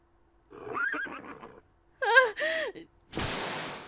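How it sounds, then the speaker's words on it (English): A startled horse in the video game Hakuoki whinnies and neighs after a gunshot, a breathy cry followed by a sharp, loud rising neigh and a final huff, heard alone. "The horse, surprised by the gunshot, reared up and threw us to the ground."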